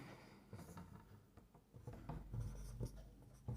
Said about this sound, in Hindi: इसके बाद यहां पर लिख देते हैं